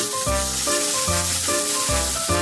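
Red wine hitting a hot pan of sautéed sliced mushrooms for a mushroom sauce, a steady loud sizzle and hiss under background music with a repeating beat.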